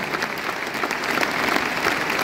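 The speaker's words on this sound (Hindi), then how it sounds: "ताली बजाओ तो बजा लो यार" An audience claps continuously at a success seminar, a dense, even wash of applause from a large crowd with no speech over it.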